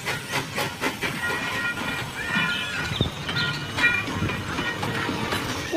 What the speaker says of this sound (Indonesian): Ini kereta api Thomas.